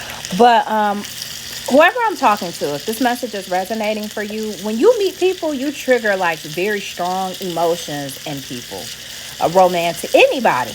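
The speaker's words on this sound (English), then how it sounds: "bear with me if you hear it kind of like sizzling in the background" Chicken sizzles in a frying pan as a faint, steady hiss beneath continuous close talking.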